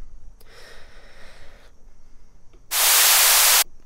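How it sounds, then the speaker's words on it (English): Two bursts of white noise: a softer hiss swelling and fading early on, then a loud, bright wash of static that cuts in abruptly and stops. "here's a white noise up and down"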